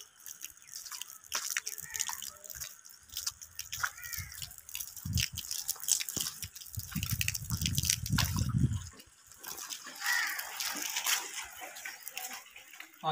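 Irregular rainwater drips and splashes patter steadily over a long stretch during heavy rain, with a brief deeper sloshing rush in the middle.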